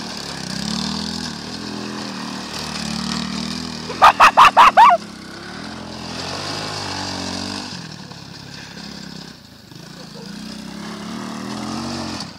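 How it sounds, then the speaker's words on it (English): A mini quad bike engine hums steadily nearby as a child rides, with a quick burst of five sharp knocks midway and a dog barking faintly in the background. "this is Max on the mini quad bike"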